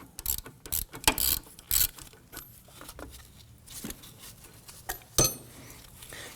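A ratchet spins out a rear brake caliper bolt on a Nissan Murano, giving rapid bursts of close metallic clicking in uneven runs, with a sharper clink near the end.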